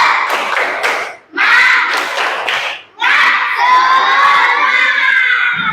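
A class of young children in a third-grade primary school lesson clap and shout together in a rhythmic spirit chant, loud and close, in three energetic bursts separated by brief pauses.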